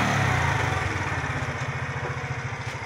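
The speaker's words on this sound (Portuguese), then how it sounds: "Liga a moto. Aí. Acelera." A small engine runs close by with a steady, fast chugging pulse, holding an even idle throughout without pauses.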